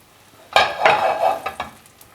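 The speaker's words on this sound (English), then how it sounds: "And then you get that lovely sizzle." Fish fingers hit hot oil in a pan with a loud burst of sizzling that crackles and spits for over a second, then settles into quieter frying pops.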